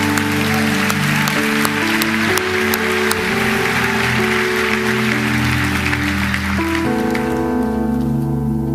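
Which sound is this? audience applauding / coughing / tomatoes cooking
audience applauding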